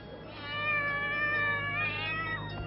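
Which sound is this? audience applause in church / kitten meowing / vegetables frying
kitten meowing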